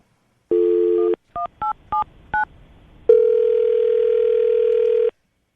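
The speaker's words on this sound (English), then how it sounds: "I'm going to try to get him back on the phone" Telephone dialing for a call: a short steady tone, then four quick touch-tone beeps in a row, followed by a longer sustained tone, clean and loud with no talking.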